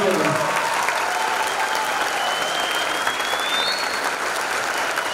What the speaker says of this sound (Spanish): Ahora sí pueden aplaudir a todos